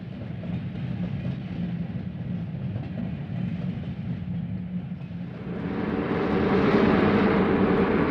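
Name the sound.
Milwaukee Road passenger train leaving Seattle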